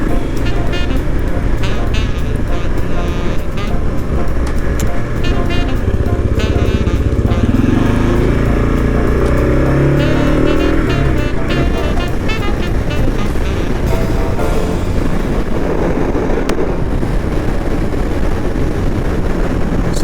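Motorcycle cruising down a road on a fall camping trip, with a steady loud engine drone and heavy wind buffeting the rider, continuous throughout and recorded close on the bike.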